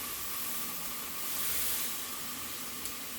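Chicken pieces seasoned with garlic flakes sizzle on a grill, a faint, steady broadband hiss that holds evenly for a few seconds with one small pop near the end.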